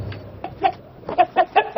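A chicken clucks in a string of short, close, moderately loud bursts that come faster toward the end, with no talking.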